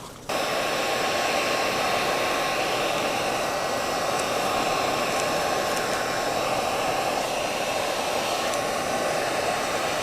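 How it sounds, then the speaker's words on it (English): A heat gun blows a steady, loud, hissing airflow while heating a textured resin coaster mold to peel it away, running continuously throughout with no speech. "got my heat gun"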